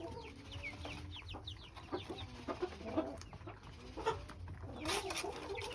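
A chicken clucks in short, soft bursts at close range, with faint scratching and background farmyard noise and no one speaking.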